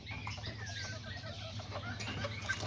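A chicken in a backyard flock clucks softly a few times under a steady low background hum, faint and somewhat distant.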